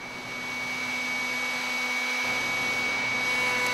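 A router cuts a lock miter profile into wood on a router table during a test cut: a steady, loud, continuous high-pitched whine with a constant motor tone that holds throughout and deepens slightly partway through.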